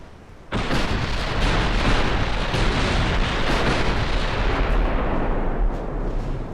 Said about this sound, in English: she just took a torpedo hit